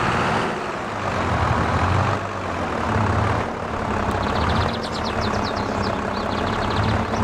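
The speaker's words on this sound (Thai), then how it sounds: "ผมสตาร์ทเครื่องรถไถตั้งแต่ตอนไหนวะเนี่ย" A Ford farm tractor engine runs at a steady idle, a loud, continuous low diesel rumble close by, with a faint rhythmic ticking creeping in near the end and no voices.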